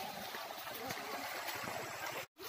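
Cold river water at Pasir Putih, a white-sand river near Desa Pilomul in Kecamatan Motilango, rushes and splashes steadily and close by as people wade across, with a brief dropout near the end.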